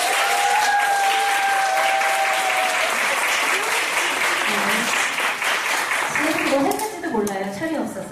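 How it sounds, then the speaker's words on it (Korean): Parents at a children's choir concert applaud the young singers, a loud, sustained round of clapping, with voices and talking emerging beneath it toward the end. "다시 한번 오늘 공연을 힘써주신 아이들에게 한번 박수."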